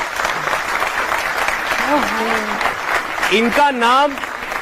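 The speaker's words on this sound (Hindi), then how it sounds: "तालियां बजाइए देखिए उनके लिए।" Studio audience applause at a Hindi talk show, steady broadband clapping throughout with a voice briefly speaking over it partway.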